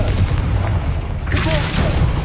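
Confringo spell blast in the game Hogwarts Legacy on PS5, a loud deep booming burst with a rumbling low tail, heard close and overlapping game ambience.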